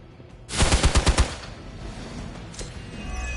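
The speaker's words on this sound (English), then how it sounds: "Well, I'm getting shot at." A short, loud burst of rapid automatic gunfire aimed at the player in Midnight Suns, about six sharp cracks in quick succession, followed by a fainter lone shot and lingering echo.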